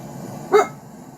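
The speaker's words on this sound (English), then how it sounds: "Roscoe wants to start barking to say good morning" A dog named Roscoe gives a single short bark, brief and moderately loud, over a quiet indoor background.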